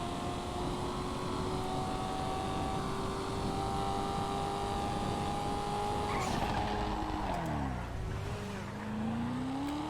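A Coquette Phobos sports car in GTA FiveM drives with a steady, fairly close engine drone, then drops in pitch mid-run and climbs again as it accelerates, with no talking.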